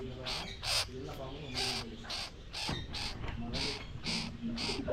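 A small young mongoose shut in a cage at Udayagiri Fort, Kanyakumari, gives repeated loud, harsh squawking calls in a steady rhythm of short bursts, close by, with some talk faintly underneath.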